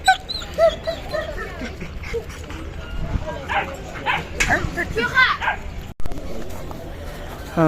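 A 1.5-month-old female Doberman puppy yips and whimpers in short high-pitched bursts while people talk nearby over it.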